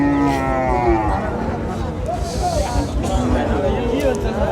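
Local bulls at a busy cattle market before Eid low with a loud, drawn-out moo, close by, over constant crowd chatter and nearby talking.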